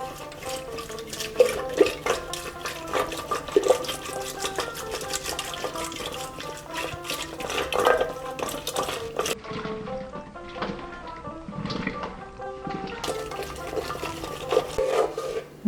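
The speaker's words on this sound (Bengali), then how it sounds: "এবার ডালকাটা দিয়ে দইটাকে ভালো করে ফেটিয়ে নেব।" Yogurt is whisked with a wooden dal masher while making a traditional Bengali ghol drink, a busy run of close wet slaps and sloshing strokes in a quick, uneven rhythm with no talk.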